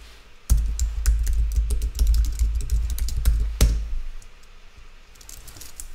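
Fingers type in quick bursts on a computer keyboard, a dense patter of close, crisp key clicks with one heavier keystroke partway through, then the typing slows and thins out at the end.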